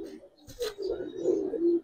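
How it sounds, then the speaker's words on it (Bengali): Low, throaty cooing from a female Icebar Chuithal Damascene pigeon, a steady rolling murmur that swells in a few pulses, close by and fairly quiet. "আইসবার চুইঠাল দামাসিন একটা মাদি কবুতর"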